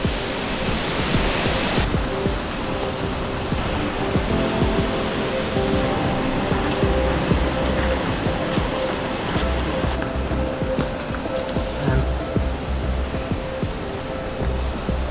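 Sekumpul waterfall in Bali, a heavy, continuous roar of falling water that stays loud and steady from start to finish.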